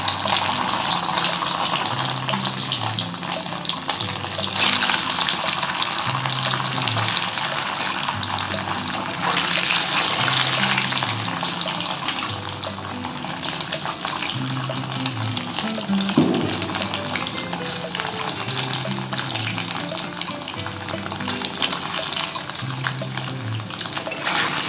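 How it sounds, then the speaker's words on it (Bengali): Paneer pieces lightly frying in oil in a kadai, a continuous dense sizzle lasting the whole stretch, with a low repeating hum beneath and a brief clatter partway through. "হালকা করে ভেজে নেব, ভেজে তুলে নেব।"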